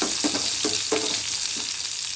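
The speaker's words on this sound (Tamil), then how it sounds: "இந்த சின்ன வெங்காயம் நல்லா வதங்கட்டும்." Small onions sautéing in a pan for milagu poondu kuzhambu, a steady close sizzle of frying with a few soft stirring strokes over it.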